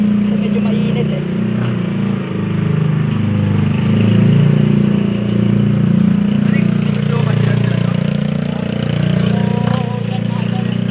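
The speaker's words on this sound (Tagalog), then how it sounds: "Hintayin lang natin yung motor na makalabas." A motorcycle engine idles steadily nearby on a road, a continuous low rumble with slight swells in loudness while people talk over it.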